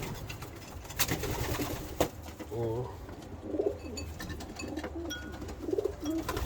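Young pigeons cooing in a breeders' loft, soft repeated coos rising over a busy background of rustling and other bird noise, with some faint voices nearby.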